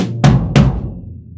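Two drum hits, one on tom 1 and one on the floor tom, from a right-hand-led paradiddle on a drum kit. Each hit is close and resonant and decays over about a second.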